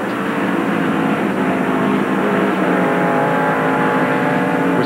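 A NASCAR stock car engine roars at the 1993 Champion Spark Plug 500, a loud sustained drone of racing motors at speed, steady throughout with no talk.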